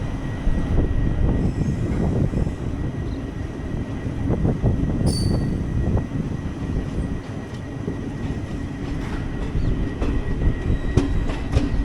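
17230 Sabari Express pulling out of Tenali station, a steady low rumble of rolling coaches with rhythmic wheel clatter and a brief high squeal partway through, continuous and fairly close, with no talking.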